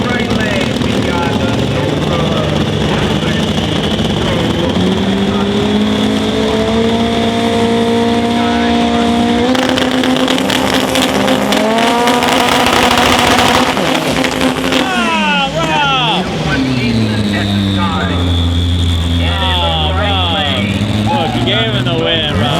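All-wheel-drive Honda cars launch side by side in a drag race final, engines revving and climbing through gears with loud rising whine, a gear-change break midway, and an announcer's voice running underneath.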